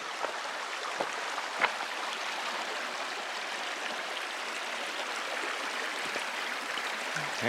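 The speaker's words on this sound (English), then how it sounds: "At least this creek's not flooded." A creek flows steadily along a mountain trail on the Continental Divide, its broadband rushing wash constant and close for the whole stretch, with a few small splashes and knocks rising briefly above it.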